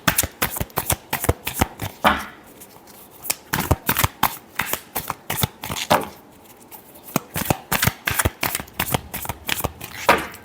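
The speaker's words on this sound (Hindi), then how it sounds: "Last shuffle." A deck of tarot cards is shuffled again and again, giving loud, close riffling bursts in quick rhythmic runs with brief pauses between them.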